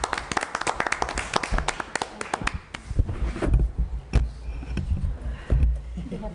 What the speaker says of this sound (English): Give a round of applause first.